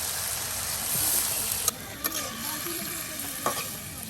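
Potatoes and green beans fry in a pan for a country-style dish cooked in a riverside community, giving a steady broadband sizzle with a few sharp stir clatters and scrapes throughout.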